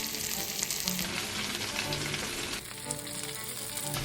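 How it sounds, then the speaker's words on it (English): Cauliflower steaks seasoned with smoked paprika sizzle and fry in a pan, a continuous crackling hiss with small pops, steady and close, without talk. "Let them sizzle for a few minutes until the bottom is golden brown."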